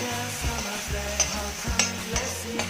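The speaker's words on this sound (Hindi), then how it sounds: "अब हमने इन्हें इसी तरह से भूनना है और हल्का ट्रांसपेरेंट होने तक भूनेंगे" Finely chopped capsicum dry-roasting in a pan with no oil, a soft crackling sizzle broken by rhythmic spatula scrapes and a few sharp clinks of utensil on metal.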